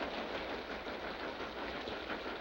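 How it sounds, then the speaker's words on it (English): A train rolling past at close range, a loud, steady rushing roar with rumbling underneath that holds level throughout, with no voices. "We have to get on that train that goes through here."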